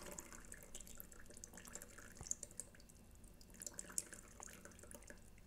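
A thin, faint stream of water pours from a pour-over kettle into a cup, a soft continuous trickle with small splashy ticks, heard quietly on its own.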